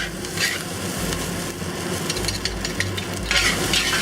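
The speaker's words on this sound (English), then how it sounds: "stir fry this for about a minute to combine all the flavors" Rice with black bean dace and zucchini is stir-fried with Shaoxing wine in a hot pan, a close sizzle overlaid with repeated scraping and tossing strokes of a spatula, louder near the end.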